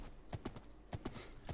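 A horse being ridden in Minecraft gives soft, hollow clip-clop hoofsteps in short uneven pairs, about six quiet taps spread over the moment with a brighter click at the end.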